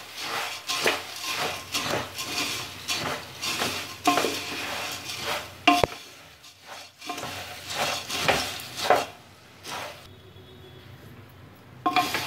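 Puffed rice chivda is tossed in a pan with a steady run of rhythmic rustling scrapes from the stirring, close and moderately loud, then quieter near the end with a last clink, and no talking.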